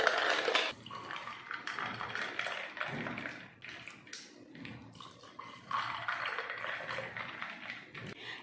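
Almond milk pours into a glass tumbler holding ice cubes, with a steady liquid trickle and splash running close and clear, with no talking.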